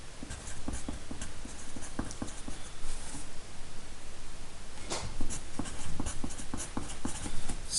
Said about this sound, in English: So I want to write that down.